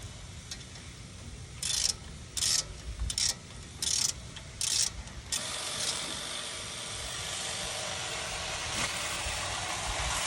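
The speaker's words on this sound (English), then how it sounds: "we'll tighten these bolts up and put the wheel back on" A ratchet snugs down caliper bolts at an F-150 wheel after a bearing replacement, giving five short clicking bursts in quick succession, close but fairly soft over a steady hiss that carries on afterward.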